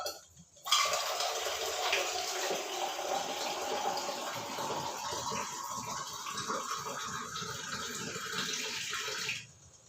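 Water pours steadily into a pot of tiffin sambar made with urad dal and pumpkin, a continuous broadband splash that starts abruptly, holds fairly loud and even for about nine seconds, then cuts off.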